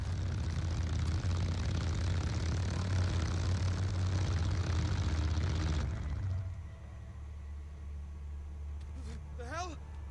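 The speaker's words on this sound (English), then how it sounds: "Why can I hear motorbikes?" Motorbike engines approaching in the game Days Gone, a loud steady engine roar that drops away partway through, followed by a faint high whine near the end.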